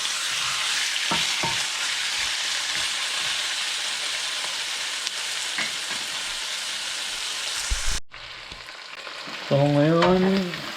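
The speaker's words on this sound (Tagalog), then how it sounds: "golden brown ko muna yung chicken. Parang piniprito-prito ko muna." Chicken pieces sizzle and crackle loudly in hot oil in a pan, browning for chicken asado, with occasional clinks of stirring, before the frying cuts out and a voice begins.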